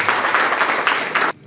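An indoor audience at an art exhibition in Pune claps loudly together for about a second and a half, a dense close burst of applause that cuts off abruptly.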